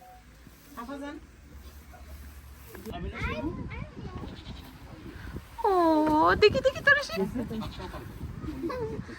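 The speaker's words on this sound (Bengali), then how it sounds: "এটা কি ভেড়া না ছাগল" Goat or sheep bleating at a farm, a couple of loud close wavering bleats mid-clip amid rustling, with people talking nearby.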